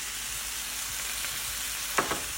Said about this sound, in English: I'm just giving these a stir